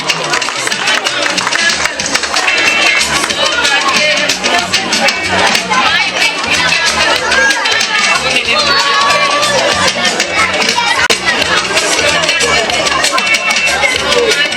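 Audience applauding at a school end-of-year celebration, a dense, steady wash of clapping from a large crowd that stays loud throughout, mixed with crowd chatter and hubbub.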